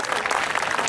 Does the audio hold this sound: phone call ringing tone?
no